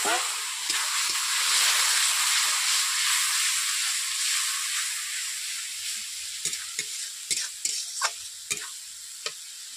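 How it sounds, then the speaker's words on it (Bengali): A splash of water lands in a hot wok of turmeric and chili powder for a katla fish curry with mustard paste, bursting into a loud hiss that slowly fades while sharp clinks of stirring follow near the end. "কড়াইতে যেহেতু বসে আছে তার জন্য আমি সামান্য করে জল দিয়ে দিচ্ছি।"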